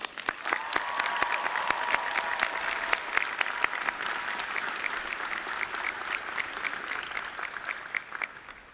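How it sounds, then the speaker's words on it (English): Sustained applause from a large graduation-ceremony crowd at a Boise State University spring commencement, dense steady clapping holding loud throughout with a faint tone early on. "Let's give these amazing people a round of applause"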